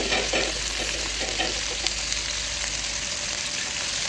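Drained anchovies frying with papaya leaves in a sizzling stir-fry, giving a loud, dense, continuous hiss with faint stirring taps early on, close and with no talk.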